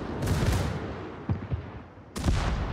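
Gunfire concentrated on a target in a video game: a loud booming shot, a couple of sharper cracks in the middle, then another heavy blast near the end, with rumbling battle noise between.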